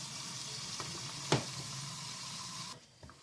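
Lung pieces sizzle steadily in a pan for kuyrdak over medium heat, with one sharp scrape of stirring midway; the frying drops away near the end, and no one talks.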